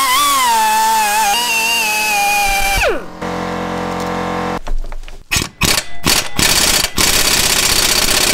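A wire brush scrubs a rusty nut thread during driveshaft removal on a Citroën C6, heard loud and close as harsh, rasping metallic scraping that breaks into several short, choppy bursts toward the end.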